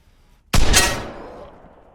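A single loud shotgun blast from the video game Vigor, a sharp close crack with a quick double burst that rings out and decays over about a second.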